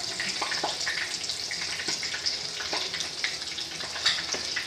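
Tacos with cheese fry in a pan, a steady hiss of oil with irregular pops and crackles, moderately quiet and close, with no talking over it.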